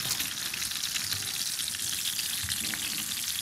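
Flour-coated sardines sizzle and crackle in a deep pan of plenty of hot oil, a steady, dense frying hiss with fine popping that stays close and even throughout, with no talking.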